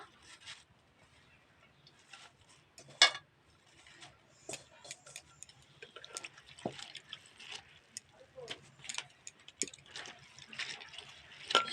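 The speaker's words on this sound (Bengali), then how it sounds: "এবার জলে ভালো করে ধুয়ে নেব শাকগুলো জলে ধুয়ে নেব" Chopped kharkol leaves being washed by hand in water: irregular splashes, drips and sloshing that grow busier toward the end, close and fairly quiet, with no talking.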